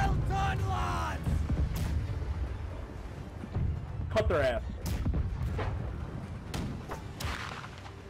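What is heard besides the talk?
ship cannon firing in Blackwake video game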